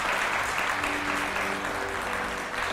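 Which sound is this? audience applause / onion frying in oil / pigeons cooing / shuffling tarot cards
audience applause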